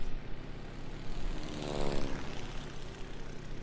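A propeller plane drones steadily in the Dora the Explorer: Dance to the Rescue PC game, a continuous buzzing engine hum that swells slightly in the middle before settling.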